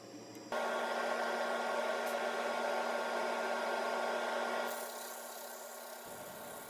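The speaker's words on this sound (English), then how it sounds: "And starting on the sanding" Sandpaper pressed against a spinning walnut and resin rolling pin on a woodturning lathe gives a steady abrasive hiss over the motor's hum, loud and continuous, easing slightly before the lathe winds down.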